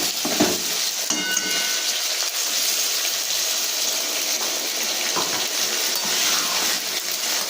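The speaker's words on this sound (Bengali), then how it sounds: "এবার মশলা ধোয়া জলটা আমি এর ভেতরে দিয়ে দেবো" Water used to rinse whole spices (cumin, ginger, garam masala, dried chillies, garlic) is poured into a hot pan of oil, crackling and sizzling loudly and steadily as it fries, with no speech.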